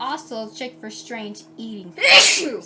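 A single sharp human sneeze breaks in right after a woman's calm speech, loud and close, with a breathy burst at the end.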